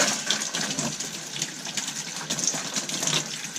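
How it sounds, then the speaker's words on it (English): Cold water gushing from a bathtub tap in an RV, a steady close hiss of running water with no talk. "Let's see, that is cold water."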